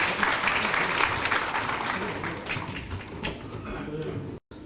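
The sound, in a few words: audience applause welcoming the student council president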